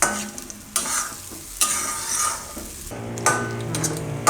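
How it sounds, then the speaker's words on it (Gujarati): A green chickpea mixture roasts in ghee while being stirred and scraped around the pan, with a continuous close sizzle and repeated rhythmic scraping strokes. "મિક્સ કરી લઉં ઘીમાં. એકદમ સરસ શેકાવા દેવું"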